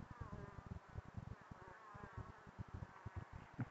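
Honeybees buzzing around the entrance of a wooden hive box, a dense steady drone of many insects close by, with individual bees zipping past in rapid pulses and no voices.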